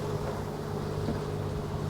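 A sailboat's engine drones steadily with a low, even hum while motoring, and faint wind and water wash sit over it.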